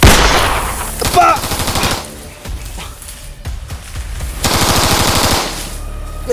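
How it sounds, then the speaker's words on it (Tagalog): Video game machine gun fire, loud close bursts of rapid shots separated by brief gaps, with a shouted voice in between. "sino yung bumaril nun?"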